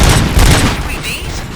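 Bursts of gunfire from the RoboCop: Rogue City video game crack and boom loudly in quick succession, giving way to a diffuse, echoing rumble.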